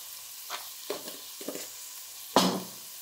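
A spoon stirs a mash of water-cooked butternut squash with chopped chives, giving four short scraping, squelching strokes, the last one louder and wetter, close up with no talking.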